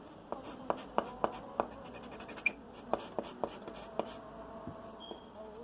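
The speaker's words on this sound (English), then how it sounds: "let's try writing something" Scratchy strokes of a freshly cut calligraphy nib with a refill on paper, a quiet series of short, sharp scrapes and taps, close and alone.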